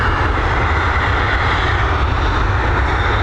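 Emirates airliner jet engines spooling up at Dublin Airport, a steady, loud broadband roar with a low rumble that holds evenly throughout, with no talk over it.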